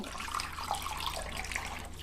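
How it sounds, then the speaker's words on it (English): Tap water runs into a cooking pot to cover pork ribs for boiling, a steady splashing, gurgling flow heard close up with no talking. "Now we need to cover this with water."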